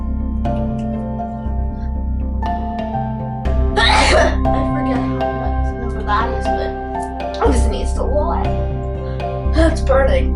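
A person attempts repeated sneezes during a timed sneeze challenge, with several sharp bursts and gasping exhalations breaking through, close to the mic over a steady background hum.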